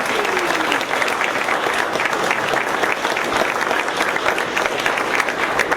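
A rally crowd supporting Utah for Bernie Sanders breaks into dense, sustained applause, loud and continuous throughout, with scattered cheering voices mixed into the clapping.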